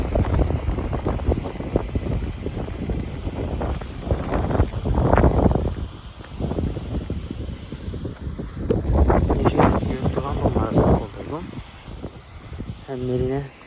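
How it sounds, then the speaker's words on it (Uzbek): Outdoor wind buffets the microphone in heavy, uneven low gusts, loud and close, while a person talks over it throughout. "Havo sal shamol."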